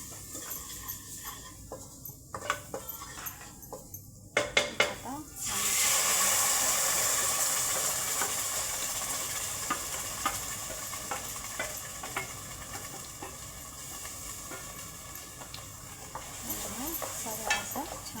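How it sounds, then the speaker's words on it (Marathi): Masala stir-fries in hot oil in a home kitchen: a steady, close sizzle rises suddenly after a few clattering stirs and keeps hissing with scattered scrapes and clinks, with no voice over it. "आता मी हा मसाला पहिला परतून घेणार आहे तेलात।"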